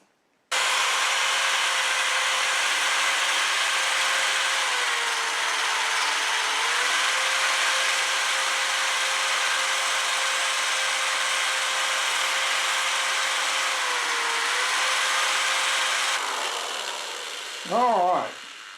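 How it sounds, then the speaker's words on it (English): A small drill bit grinder grinding steel whirs steadily for about fifteen seconds with a slight pitch dip midway, then winds down as a brief rubbing scrape ends it. "So before I start on my good steel with a small grinder, I also bought that drill bit grinder."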